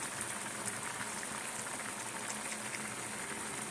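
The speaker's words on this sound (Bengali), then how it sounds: "মাংসটা যেহেতু সেদ্ধ করা হচ্ছে বেশি সময় লাগে না" Chicken meat boiling in a pot with whole green chillies and ground black pepper: a steady, dense bubbling and simmering hiss that stays even throughout, soft and close, with no talk.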